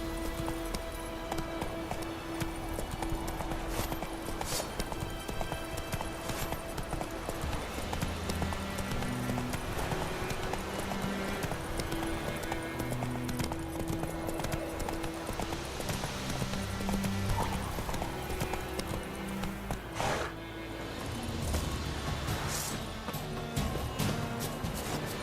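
A horse gallops in The Witcher 3 video game, its hooves clip-clopping in a fast, continuous rhythm under layered game music and ambience.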